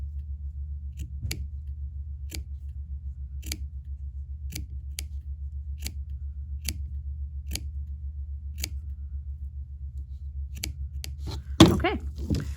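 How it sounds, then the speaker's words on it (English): Scissors snip through paper in about a dozen crisp, evenly spaced cuts over a low steady hum, with a louder rustle near the end. "cut the rest of your snips in"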